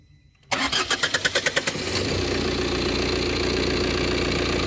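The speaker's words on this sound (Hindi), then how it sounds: "वापिस स्टार्ट कर दिया।" A Tata Altroz 1.5-litre BS6 diesel engine cranks with a quick run of rhythmic starter pulses, then catches and settles into a steady, loud diesel idle close by.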